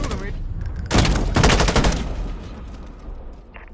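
Gunfire in Call of Duty Modern Warfare, a loud burst of rapid automatic shots followed by a second burst, then a fading echo and low battlefield rumble.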